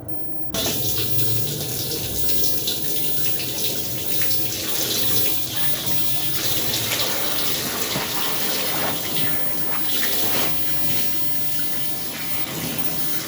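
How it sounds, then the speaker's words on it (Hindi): Water runs steadily from a tap into a household sink for washing, a continuous splashing gush that starts abruptly and carries on for the whole stretch, close and fairly loud, with no talking. "अब मैं पानी खोलती हूँ, इनको वॉश करती हूँ"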